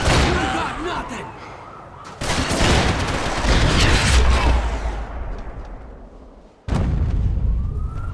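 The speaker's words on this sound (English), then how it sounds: "Gunfire over Hoboken." Dense bursts of gunfire and explosions in the Max Payne 3 video game, set in Hoboken, fill the scene loudly and continuously, with a sharp cut in the middle and a fresh blast of shooting near the end.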